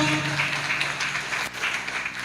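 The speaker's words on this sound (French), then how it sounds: "Encore une fois, applaudissez, mesdames, messieurs. Plus fort, plus fort." Steady applause from a crowd at a graduation ceremony, a dense continuous patter of many hands clapping that holds throughout without pause.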